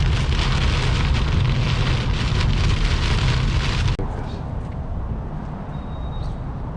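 Heavy rain from a passing weather front pours down steadily, loud and close with a dense roaring patter, then drops abruptly to a lighter, quieter rainfall with faint background sounds.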